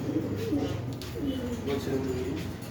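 Pigeons at a poultry market in Kurumbur coo softly in repeated low, rolling calls over the background murmur of the market.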